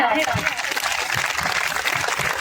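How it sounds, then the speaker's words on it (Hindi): An audience at a Ram Katha religious discourse gives dense, hissing applause that stays loud and unbroken the whole time, a wash of many hands clapping together. "एक बार जोरदार ताली बजाएं आप।"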